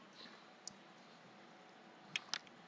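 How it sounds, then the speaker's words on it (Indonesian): A few sharp, faint plastic clicks from a computer keyboard key being pressed, one single tap followed later by a quick pair, in a quiet room. "Setelah kita ketik itu, kita tekan enter."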